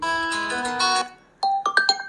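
Ringtone previews playing on a Redmi Note 12 5G phone: a melodic chiming tune, then after a short gap a second brighter sequence of plucked notes, clear and close with no talk.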